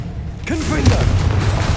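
Confringo spell blast in Hogwarts Legacy, a heavy booming explosion that swells in about halfway through and rumbles on loudly, with a voice shouting over it.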